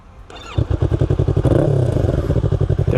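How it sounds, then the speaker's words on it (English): Yamaha R3 motorcycle engine cranking and starting up, then settling into a loud, close, rapid rhythmic idle with a brief rev. "So let me turn on the bike."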